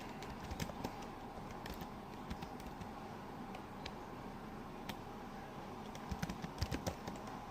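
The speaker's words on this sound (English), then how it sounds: "Hold on, I'm typing this in." Steady typing on a computer keyboard, quick irregular clicks and key taps running throughout at close range, with no talk over them.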